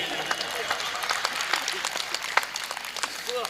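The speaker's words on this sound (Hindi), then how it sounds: "इसीलिए इतनी ताली बजी इनके कावे पाठ पे।" An audience at a Hindi poetry recital claps steadily, a dense patter of hands that carries on at an even level for a few seconds.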